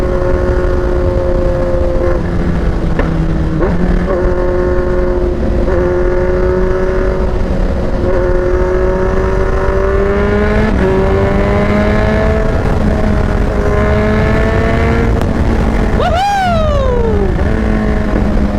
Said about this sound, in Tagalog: Mas nakaka-enjoy yung tunog niya ngayon. Power din. Grabe tong burnout exhaust na to.